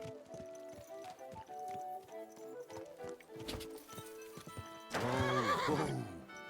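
A horse in the video game Kingdom Come: Deliverance 2, with rhythmic clip-clop hoofbeats in the first seconds, then a loud drawn-out neigh near the end, set against quiet game ambience.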